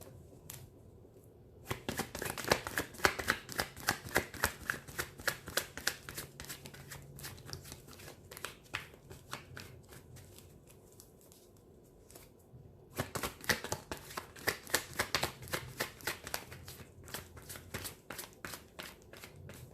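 Tarot cards are shuffled by hand in two long stretches of rapid, crisp riffling and slapping, close and fairly quiet, separated by a pause of softer handling.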